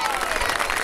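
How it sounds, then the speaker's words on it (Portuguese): A church congregation claps during a thanksgiving service, a short loud burst of dense applause lasting under a second, with voices faintly mixed in. "Você pode dar uma salva de palmas para Jesus?"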